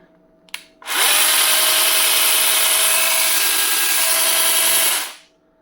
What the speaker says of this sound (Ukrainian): Вставляємо акумулятор і будемо зараз запускати цю чудо-пилу